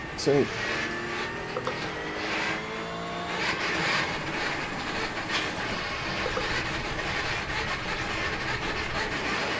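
A loud, continuous mechanical whirring and rumbling from the motors of a Next Level Racing Motion Plus motion simulator platform, with shifting whining tones, steady and close throughout.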